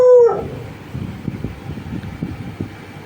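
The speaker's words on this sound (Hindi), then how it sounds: "ये देखो किसी को भौंक रहा है।" A pet dog indoors barks and yips at someone outside, a sharp high cry at the start followed by a run of softer, muffled barks and whimpers at moderate distance.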